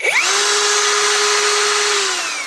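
A Parkside Performance X20V Team cordless angle grinder spins up after a switch repair, a loud, steady high whine that holds at full speed for about two seconds, then begins to wind down.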